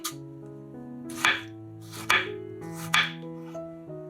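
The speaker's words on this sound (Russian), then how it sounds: "Половинки помидоров нарезаем пластинками." A knife slices tomato halves into slices on a board, producing three or four crisp, evenly spaced cuts over soft background music.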